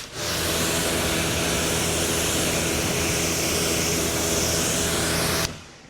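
An AR635 pressure washer running at 3 gallons per minute rinses a car, a loud, steady hissing spray with a motor hum beneath, cutting off abruptly near the end.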